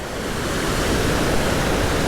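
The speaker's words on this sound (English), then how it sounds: "Water is definitely moving really fast here." Fast-moving river water near Edenville Falls, a steady broad rushing roar that fills the clip loudly and evenly, with no voices.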